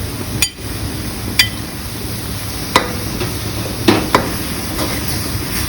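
Fish is stir-fried with chili paste in a pan over medium heat, with a continuous sizzle and several sharp spatula knocks against the pan spaced irregularly, close by and without talk.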